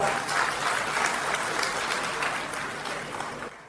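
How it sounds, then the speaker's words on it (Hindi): An audience claps loudly at a farmers' programme launch in Puri, with sustained, even applause that tapers slightly before stopping at the end. "जरा जोर से ताली तो बजाओ"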